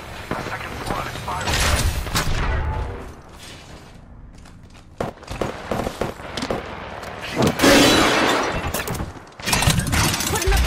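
Rampart firing her weapon in Apex Legends: bursts of gunfire with shattering, breaking impacts and clanking mechanisms through a busy fight, and a voice speaking over parts of it.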